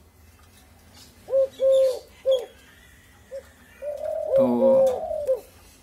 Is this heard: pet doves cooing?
yes